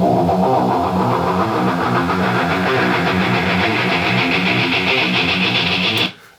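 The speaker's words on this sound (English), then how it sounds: "at one point we have a guitar intro that sounds like this." Guitar intro from a band's backing track, a dense sustained electronic-sounding tone with a pulsing rhythm and an envelope sweep that gradually opens up the brighter upper range, loud and steady before cutting off near the end.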